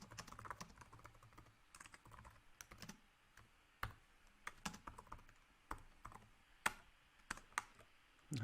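Keystrokes on a computer keyboard during C++ coding, an irregular run of soft clicks with quick bursts and pauses, fairly quiet in a calm room.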